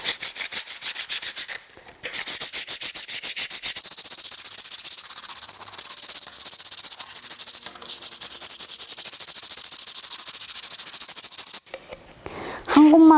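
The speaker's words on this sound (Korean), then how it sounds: "사포질을 할 때는 나무 표면의 거친 부분 위주로 사포질을 해주셔야 합니다" 120-grit sandpaper rubs back and forth over a wooden notebook cover in a woodworking class, making fast rhythmic scratchy strokes close up. Brief pauses break the strokes, and a voice comes in near the end.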